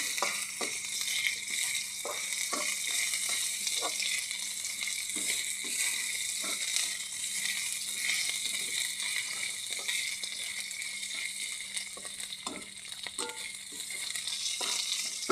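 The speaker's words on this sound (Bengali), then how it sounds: "ভালো করে ভাজে নেব" Moong dal and badi fry in a pan with green chillies, giving a steady, even sizzle with intermittent stirring scrapes and soft clinks throughout, fairly close and without talk.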